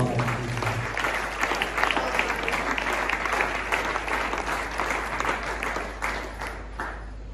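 A church congregation bursts into sustained applause, many hands clapping in a full, even wash over a low steady hum, tapering slightly near the end.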